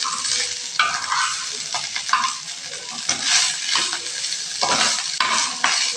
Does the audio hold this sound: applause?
no